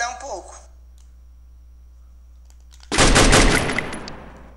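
Automatic gunfire in a ranked Free Fire match on an iPhone: a short voice at the start, a quiet gap, then one loud, dense burst of rapid shots lasting about a second and a half.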